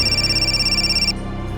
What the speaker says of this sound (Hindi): अंजलि का फोन